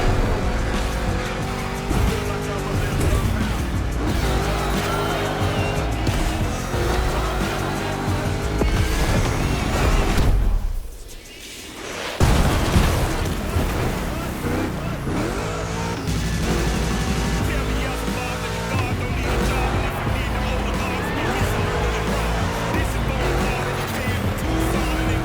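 Monster truck racing in the video game The Crew Motorfest, a loud continuous engine roar with tire squeals and skids, briefly dropping out mid-race before surging back.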